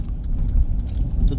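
Slow, congested traffic heard from inside a moving car, a low steady engine and road rumble with faint passing vehicle noise.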